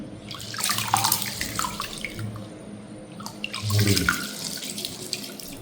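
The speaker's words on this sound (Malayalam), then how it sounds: "ഇനി ഒരു ബൗളിലേക്ക് കുറച്ച് ബസുമതി അരി, ഒരു 1/2 കിലോ അരിയുണ്ട്, അതിലേക്ക് വെള്ളമൊഴിച്ച് ഒന്ന് കുതിർക്കുവാനായിട്ട് വെക്കാം." Water pours steadily into a bowl of half a kilo of basmati rice set to soak, a continuous close splashing stream that swells and eases in waves, with no voices.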